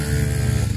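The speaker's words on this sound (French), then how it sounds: "Donc on a la petite Miko, la première petite moto à Armand," A small motorcycle's engine running steadily at close range, an even buzzing drone with no pauses or voices.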